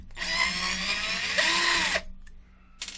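A power drill runs loud and close for about two seconds, its whine shifting pitch as it spins up and down during a drill repair, then cuts out, with a brief burst returning at the end.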